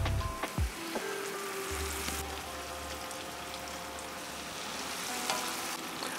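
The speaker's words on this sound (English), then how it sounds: "I add half a cup of boiling water to it. It makes the onion soften" Onion softening in a pan with half a cup of boiling water added while making keto stuffed grape leaves: a steady low sizzle and bubbling hiss continues for several seconds, with faint clinks at the start and no talking.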